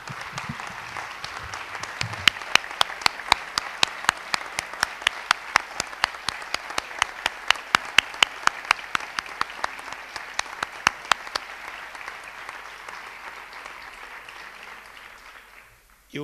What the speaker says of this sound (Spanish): Os pido un fuerte aplauso en recuerdo de nuestro añorado Pedro Bacán.